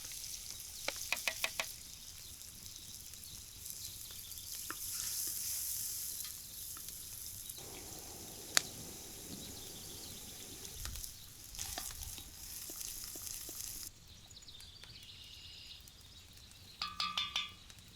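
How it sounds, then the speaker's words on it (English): Onions searing in a cauldron over an outdoor fire for Hungarian tripe stew, a soft steady sizzle with occasional knocks and stirring clatter, fairly quiet throughout. "Next, we add the onions and we sear them until translucent."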